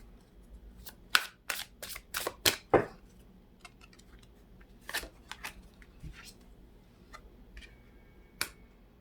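Tarot cards are shuffled and drawn, giving a series of sharp riffling snaps and slaps in quick bursts, then sparser flicks and taps as single cards are pulled and laid down, close and quiet with no voices.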